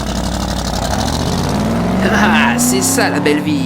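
A Playmobil Porsche 911 police toy car gets a synthesized engine sound effect, a revving drone that climbs steadily in pitch as it accelerates, playing loud and continuous under a voice speaking in French.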